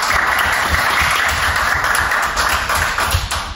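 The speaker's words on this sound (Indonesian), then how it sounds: "kita beri tepuk tangan untuk Ramawan" Students clapping for a classmate in a micro-teaching class, a dense, even patter of many hands sustained across the whole moment with no talk.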